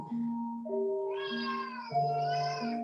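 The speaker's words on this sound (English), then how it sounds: "And I do have a black cat coming in." A black cat meows in long, drawn-out, tonal cries that rise and fall, loud and close, with no one speaking during a Halloween yoga session.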